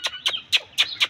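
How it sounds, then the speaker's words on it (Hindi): Roosters resting in the shade give five quick, sharp clucks in an even rhythm, close and fairly clear against a quiet background. "ये छाँव में बैठे हुए हैं माशाल्लाह मुर्गे।"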